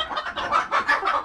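A few quick clucks from laying hens close by in Guatemala, rhythmic and fairly soft, with no voices.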